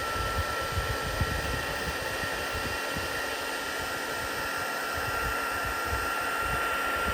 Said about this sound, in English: My heat and emboss tool.